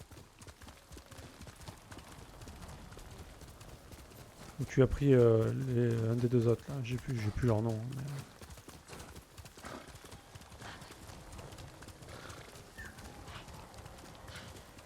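A horse whinnies loudly for a few seconds in the video game Ghost of Tsushima while faint hoof clip-clops continue throughout, with a person talking over it.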